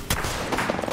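Gunfire in Apex Legends, a loud opening shot followed by a ragged burst of rapid shots within a second, with no talk.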